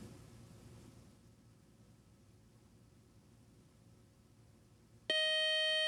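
A game-show buzzer on an academic quiz program blares suddenly and loudly near the end, a sustained harsh electronic tone after several seconds of quiet room hum.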